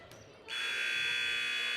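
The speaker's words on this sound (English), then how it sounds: "And there's the buzzer." A basketball game buzzer sounds at a girls' high school tournament in a gym, a sharp sustained electronic tone starting abruptly after a brief quiet moment and holding loudly to the end.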